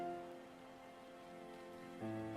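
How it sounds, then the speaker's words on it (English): Steady rain sound effect in a Gen 3 Pokémon video game, a soft continuous patter blended under the game's tonal music, with a louder musical swell near the end. "I just realized there's rain to this."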